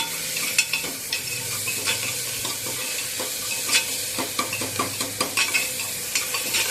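Salt being stirred into a frying pan of onion and tomato for masoor dal amti, with steady close sizzling and irregular scraping strokes of the spoon.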